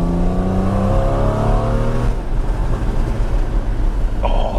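A Porsche Cayman 981 engine revs up loudly, then drops into a steady rumbling drone with road noise, heard close and without talk.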